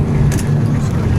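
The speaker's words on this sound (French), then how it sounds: "Incroyable circulation dans le désert." Road traffic on a desert road, a steady loud engine rumble of a passing vehicle with a brief hiss of tyres, heard close and alone.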